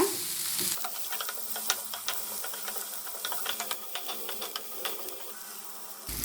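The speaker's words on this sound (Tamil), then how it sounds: "நம்ம தொளிச்ச பச்சை பட்டாணி சேர்க்குறோம் இந்த பச்சை பட்டாணி ஒரு ரெண்டுலேருந்து ஒரு மூணு நிமிஷம் வரைக்கும் நல்லா வதங்கட்டுங்க" Green peas sautéing in a pan for Tamil-style chicken keema curry, a steady sizzle with frequent stirring clicks and scrapes, close and moderately loud, with no voices.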